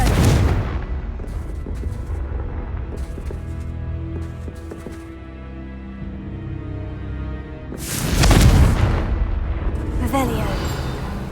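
Confringo fire-spell blasts in the game Hogwarts Legacy, a couple of loud booming bursts at the start and near the end over a steady game soundscape, with a voice speaking.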